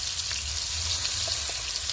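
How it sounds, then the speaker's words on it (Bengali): Tomatoes fry in a pan with a close, continuous sizzle and light crackle, with no talking. "কত সুন্দর ভাজা হয়েছে দেখতে পাচ্ছ, পোড়া পোড়া মতো হয়েছে।"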